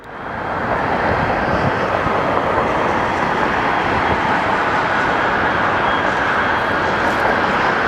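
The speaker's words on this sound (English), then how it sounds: "Boeing 767 blew one of its tires during takeoff from Detroit." A Boeing 767 jet airliner rolls for takeoff from Detroit, its engines a loud, steady broadband roar that swells in over the first second and then holds constant.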